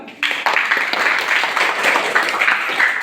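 An audience applauds after a Bengali song, a burst of clapping starting sharply and continuing steadily, fairly close and loud, with a few voices mixed in.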